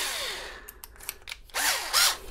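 A power drill with a 7/32 bit widens a hole in a 2005-2006 Chevrolet Equinox ignition, whirring in short revving bursts that rise and fall in pitch, close and fairly loud.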